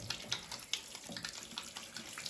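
A kitchen tap runs steadily into a sink, a continuous splashing gush with small rhythmic surges, close by and with no talk over it.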